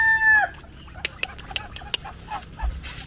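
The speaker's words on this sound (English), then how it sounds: "Chicken." Chicken crowing and clucking outdoors at a family house, a loud drawn-out crow at the start followed by several short sharp clucks spaced irregularly at moderate distance.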